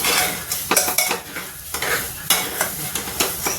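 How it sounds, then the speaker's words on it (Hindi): Green chilies roast in a pan over a low flame, a steady close sizzle broken by several sharp stirring scrapes of a utensil against the pan. "अब ऐसे इसको धीमी आंच पे थोड़ी देर हम भूनेंगे"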